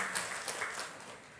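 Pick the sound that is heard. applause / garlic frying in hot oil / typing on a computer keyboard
applause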